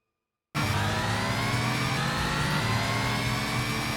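A car engine in an RPG racing video game roars to life after a moment of silence and holds a loud, sustained, rich revving drone to the end.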